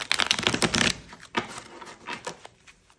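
Rapid papery riffling of tarot cards, loud and dense at first, then softer intermittent slaps and flicks as the cards settle, close by with no voices.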